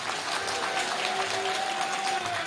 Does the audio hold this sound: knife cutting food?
no